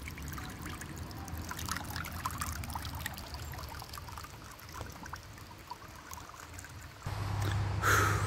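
Water trickles and pours from a bottle outdoors at a city park in Mealhada, a close, soft continuous dribble that changes and grows louder near the end.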